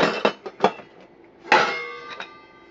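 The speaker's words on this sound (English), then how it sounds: "This is some of my cooking gear." Metal cookware clanking and clinking as it is handled, a few sharp knocks early, then a louder rattle with ringing tones that fade.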